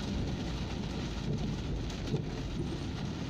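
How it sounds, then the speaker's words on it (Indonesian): Rain falling on a car during a drive along a southern road toward Klaten, heard as a constant dense wash of patter and road rumble, fairly loud and unbroken, with no voices. "Wih, hujan lur."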